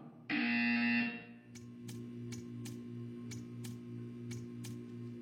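One loud, sustained electronic buzzer tone lasts about a second, followed by faint repeated ticking over a steady low hum.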